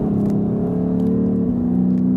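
Lexus RC F's 5-litre V8 revving hard on a race track, a loud, steady engine drone that holds high revs, then drops to a lower tone and keeps roaring.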